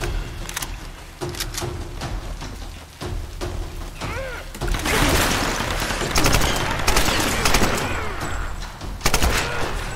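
Gunfire in the Tomb Raider game's geothermal caverns, rapid volleys of shots and bursts, loud and close, growing denser toward the end, with no talking.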